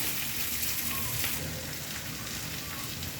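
Onion and potato pieces frying in leftover oil in a pan after fish, giving a steady, even hiss and sizzle throughout with a brief brighter crackle early on.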